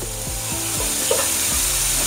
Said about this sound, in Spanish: vamos a echar el puerro y se vaya sofriendo